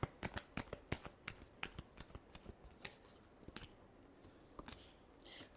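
Tarot cards being shuffled by hand, a rapid run of crisp riffling flicks and taps that thins into scattered softer snaps, close and quiet with no talking.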